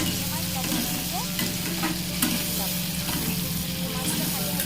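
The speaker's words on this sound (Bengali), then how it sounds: "এদিকে কড়াইতে তেল দিয়ে চিংড়ি মাছ লবণ দিয়ে দিলাম।" Salted shrimp fry in oil in a kadai wok with a constant soft sizzle, while occasional faint scraping clicks of stirring sound near and quiet.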